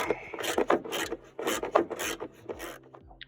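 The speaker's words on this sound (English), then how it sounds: "I'm going to go ahead and take off these bolts right here" A 13mm wrench ratchets bolts loose inside the battery compartment of a 7.3 liter truck, making close, rasping bursts in quick repeated runs with short pauses between them.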